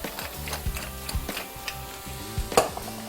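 Mushrooms sizzle in olive oil in a pan while being stirred, with soft frying hiss and scattered light scraping ticks, one sharper clink near the end.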